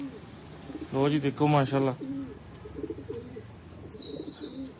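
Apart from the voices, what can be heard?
pigeons cooing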